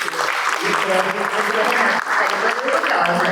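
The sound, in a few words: audience applause for Juliana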